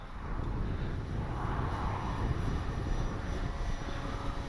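A Durafly Tundra V3 RC bush plane flies overhead with a steady, droning electric motor and propeller buzz, continuous and moderately loud against a breezy outdoor background, with no talking.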